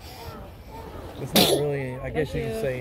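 A single sharp sneeze bursts out partway through a relaxed conversation at the beach, with people talking before and after it.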